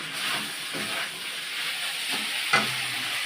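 Chicken with figs (dumur) and chopped tomato sizzles in a pan on a home stove, a steady frying hiss with occasional stirring scrapes and one sharper clatter near the end.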